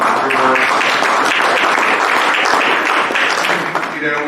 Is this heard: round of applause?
yes